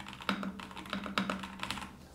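Typing on a Kzzi K75 Pro wireless mechanical keyboard produces quick, close clusters of soft, clicky keystrokes in an uneven rhythm, quiet and alone without speech.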